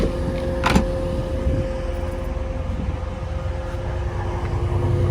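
Scarborough to Liverpool Lime Street passenger train at a station platform, with a steady electric hum from the train and rumbling low noise. A brief clunk comes early, then the train moves off slowly, heard from nearby.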